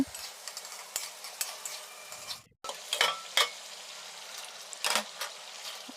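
Eggs frying in a little oil in a pan, with soft sizzling and repeated stirring and spatula scrapes against the pan, with a short quiet gap partway through.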